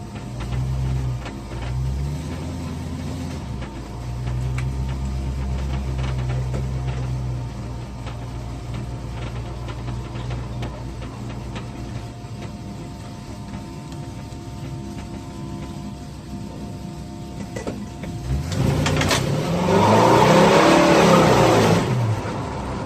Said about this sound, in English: That's taken off and low range and it's shifting through the gears.